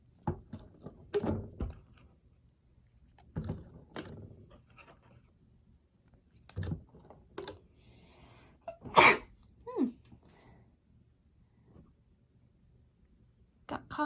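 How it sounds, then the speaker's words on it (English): One sudden, sharp sneeze rings out close by in a quiet room, among soft clicks and small handling sounds from crafting with a Rainbow Loom. "Got caught with a sneeze."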